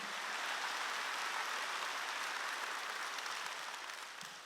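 A church congregation breaks into applause during a sermon, a dense, even wash of many hands clapping at a distance, sustained and softening slightly toward the end.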